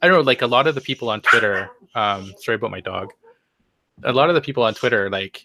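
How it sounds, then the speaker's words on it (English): A dog barks in the room behind a person talking continuously, the barks mixed in with the speech rather than heard alone. "sorry about my dog."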